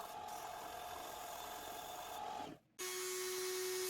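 Dremel rotary tool with a cutoff wheel cutting into a pancake-style OWB gun holster, a high steady whine with a grinding edge that drops out briefly and then returns at a lower, even pitch.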